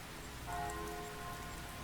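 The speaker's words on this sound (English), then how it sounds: "all I heard was the sound of raindrops on umbrellas" Rain patters softly onto umbrellas in a video game scene, a faint, even wash of drops with a brief slightly louder swell partway through and no voices.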